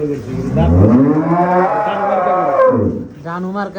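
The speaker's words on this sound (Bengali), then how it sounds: "হলেস্টান ফ্রিজিয়ান জাতের একটা গাভী" A Holstein Friesian dairy cow on a dairy farm moos loudly and close by in one long, drawn-out low call, followed by a shorter second moo.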